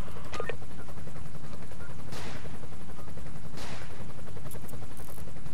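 Gunfire in the Emergency 5 game, a few scattered shots over a constant loud rumbling background of vehicle and ambient noise.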